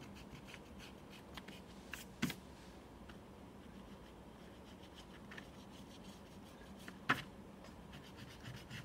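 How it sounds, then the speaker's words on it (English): An eraser rubs pencil guidelines off paper on a drawing of a Greek temple, making a faint, continuous scratchy rubbing with a couple of sharper strokes. "So now it's time to erase out the guidelines."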